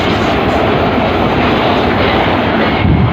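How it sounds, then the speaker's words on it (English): British Rail Class 450 electric multiple unit passing at speed through Clapham Junction, a loud, close, continuous roar of wheels and rushing air that holds steady without pause. "and that train is not hanging around at all."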